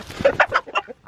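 Chicken clucking up close, a quick run of four or five sharp clucks in an uneven rhythm, loud and clear with no other sounds around it.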